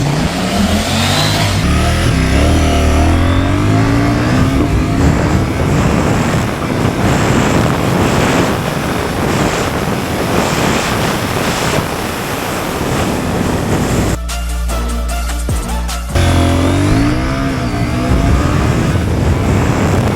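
A Ducati Monster 950 or CFMOTO 800NK motorcycle accelerates hard from 0 to 100 km/h, its engine roaring steadily beneath heavy rushing wind noise, with a brief dip at a gear change before the roar builds again.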